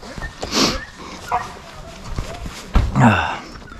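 A hunting dog barks and yips a few times outdoors on a rabbit hunt, with a person talking nearby and some footsteps in between.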